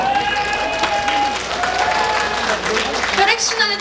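Crowd clapping at an outdoor concert at the Daedunsan festival in Wanju, moderately loud and continuous beneath a performer speaking and light music.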